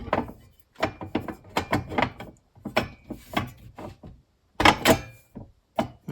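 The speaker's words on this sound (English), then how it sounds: "So I'm going to slide that in." MyEnergi Eddi unit slid into the slots of its frame during installation: a series of close wooden-sounding knocks, scrapes and thunks in irregular bursts, separated by brief silences, with no speech.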